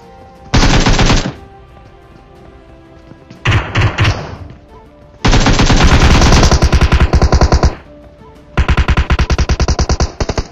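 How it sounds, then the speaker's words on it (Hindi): Automatic gunfire in the PUBG battle royale game, loud bursts of rapid rifle shots in four separate volleys with short quiet gaps between, close and harsh. "तो इधर की साइड गोली चल रही होती है जहां पे होते हैं दो बंदे"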